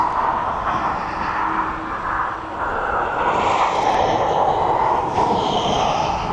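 An aircraft departing East Midlands Airport, a loud continuous jet engine roar that swells and holds steady throughout.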